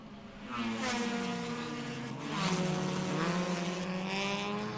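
A race car in the PT Maxnitron Racing Series drives a street circuit, its engine revving and rising in pitch through gear changes, fairly close and continuous with no talk.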